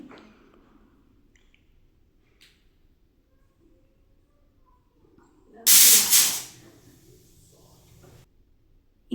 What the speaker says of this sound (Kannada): ಇಲ್ಲಿ ನಾನು 3 ವಿಸಲನ್ನು ಕೂಗಿಸ್ಕೊಂಡಿದ್ದೀನಿ